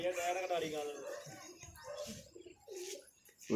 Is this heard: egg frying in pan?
no